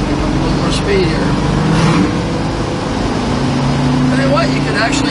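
A 1969 Volkswagen pickup engine drones loudly in third gear while driving down the road, with a steady rumble and shifting engine pitch and someone talking over it.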